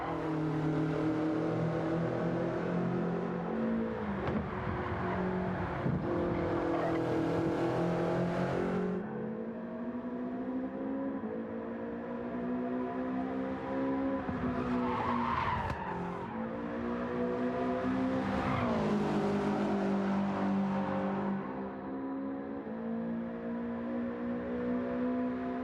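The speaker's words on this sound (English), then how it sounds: "just doing a lap and listening to the engine note" A Toyota 86 Gr.4 race car lapping in Gran Turismo 7, its engine note rising and dropping through gear changes, with tire squeal under hard cornering, loud and continuous.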